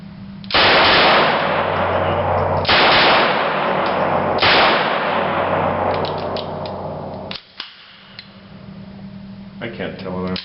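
A Lage M-11/22 submachine gun conversion fires at a shooting range in three long, loud, rapid bursts, each a dense rattling string of shots, followed by scattered clanks and brief movement noise.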